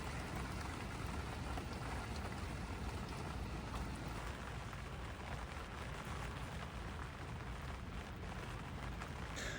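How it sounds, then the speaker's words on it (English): Steady rain falls on a mild, unseasonably warm December day, a continuous close hiss of drops pattering on surfaces without pause for the whole stretch, with no voices. "Now we have a rainy day because it's warmer today."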